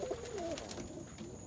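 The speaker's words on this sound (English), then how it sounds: "here's a perfect, another beautiful ballhead roller" An indigo ballhead roller pigeon, a male, gives a brief soft coo, a short warbling call close by in a quiet space, fading into faint background hum.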